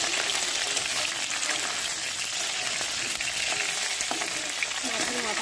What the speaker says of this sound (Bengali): বাঁধাকপিটা এদিকে রান্না হচ্ছে এই যে মাছের মাথা দিয়ে বাঁধাকপি